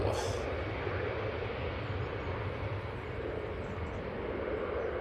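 Departing Manchester Airport, an EasyJet Airbus A320 makes a steady, mid-distance engine rumble, with faint background sounds and no clear talking.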